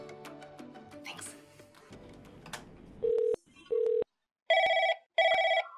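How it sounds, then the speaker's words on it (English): Desk telephone ringing in an office, first two single steady electronic tones, then two louder warbling double rings, each burst clear and separated by short silences after a stretch of faint background activity. "I have to make a quick phone call to IT."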